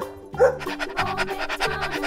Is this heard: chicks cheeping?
no